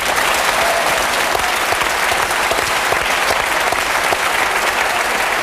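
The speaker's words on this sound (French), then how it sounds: "Il est venu pour vous, donc je crois que vous pouvez l'applaudir." Studio audience at a French TV music show in Paris applauding a performer, dense sustained clapping filling the room at steady loudness throughout, with no talk over it.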